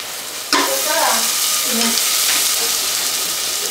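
Ginger garlic paste lands in hot oil in a pan for chicken curry and is stirred. A sudden loud sizzle erupts after a short pause, then settles into a steady close hiss with brief stirring scrapes.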